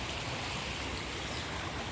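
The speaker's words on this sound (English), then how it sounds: "Creek's been overflowing pretty bad." Rushing water from a creek overflowing after a July windstorm, a steady, loud broadband roar with no pauses.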